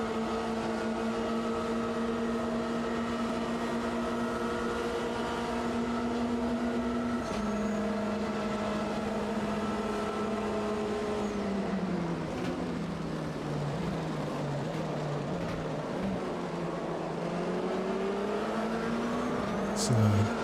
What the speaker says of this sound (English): It's a gaggle of 4 cars all battling it out.